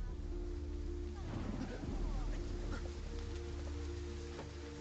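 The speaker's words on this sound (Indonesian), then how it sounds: "Hujan turun sangat deras." Heavy rain pours down in a dense, steady wash with low rumbling underneath, the downpour filling the whole stretch without pause.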